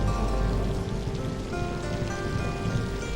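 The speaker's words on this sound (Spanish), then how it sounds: "En octubre llegan los monzones a Borneo. Entonces no para de llover" Monsoon rain pours steadily onto the Borneo rainforest canopy, a dense, even hiss of drops on leaves and surfaces with no pauses and no voices.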